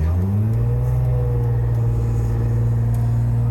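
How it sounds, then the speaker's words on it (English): A car fitted with a new torque converter pulls away from a stop, its engine rumbling steadily with a low, rising drone that holds close and loud throughout, no voices present. "It used to take a lot more RPM to get the car to move."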